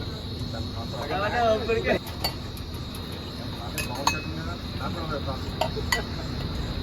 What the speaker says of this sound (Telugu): నాకు coffee కలుపుతున్నాడు bro. Garam garam coffee చేసి ఇస్తున్నాడు.